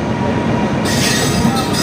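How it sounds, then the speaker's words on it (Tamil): A train at Bangalore railway station rumbles close by in a steady, dense wash of rolling noise and wheel clatter, with a brighter hiss rising partway through. "this is the Bangalore railway station."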